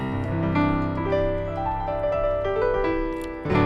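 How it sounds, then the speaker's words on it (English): Logic's stock Studio Grand piano, single mic, plays a slow, sustained melody over rich chords, notes ringing and overlapping, close and full, with a fresh struck chord at the end. "I'm gonna go ahead and use the stock piano sound inside Logic"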